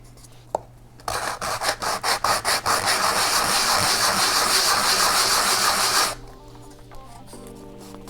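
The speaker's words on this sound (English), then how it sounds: "it doesn't hurt to take some sandpaper and just kind of clean up that end" Sandpaper rubbing a sharp burr off the end of a rocket body tube for an Estes Mayhem build, starting as quick rhythmic strokes that merge into steady close scraping for about five seconds before stopping.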